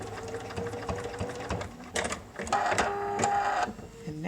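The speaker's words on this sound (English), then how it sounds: "I'm actually going to push the button that ties a knot, because it's going to do a tiny stitch forward" A sewing machine ties off a knot stitch while outlining a mouse design, rapid mechanical chattering in short bursts with pauses, close and fairly loud, no voices.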